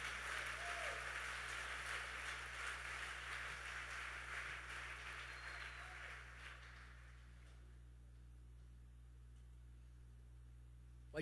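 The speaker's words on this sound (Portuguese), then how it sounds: "Vamos aplaudir bem forte a Jesus Cristo." A church congregation applauds during a sermon, a broad steady wash of clapping that fades out after about eight seconds, leaving quiet hum.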